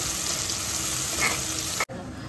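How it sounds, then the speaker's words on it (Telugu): Thinly sliced medium onions frying in hot oil for Hyderabadi mutton haleem give a steady, close hiss and crackle, with a brief stir, before the sizzle drops abruptly near the end. "ఇప్పుడు దీంట్లో వేస్తున్నాను. ఇవి ఇలా మంచిగా ఫ్రై చేసుకోవాలి."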